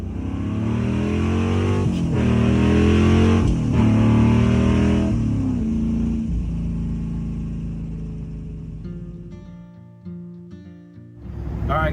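A 1955 car with header mufflers rumbles and revs as it drives, a deep, loud, steady exhaust burble with rising and falling engine pitch, easing off near the end.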